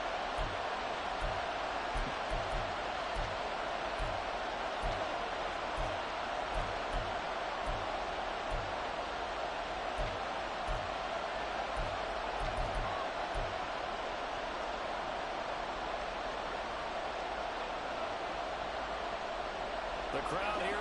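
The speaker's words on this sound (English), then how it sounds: "The crowd here in the Dome making things difficult" A steady, loud stadium crowd roar fills a domed stadium during a football game, with soft rhythmic low thumps through the first part and a voice faintly present underneath.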